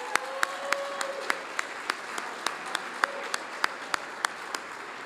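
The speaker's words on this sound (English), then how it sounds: "Stay on your feet for a second and give a roaring applause to all the presenters tonight" An audience claps at Hamilton's State of the City address, a sparse, steady run of individual claps in a large room that continues evenly with no talking.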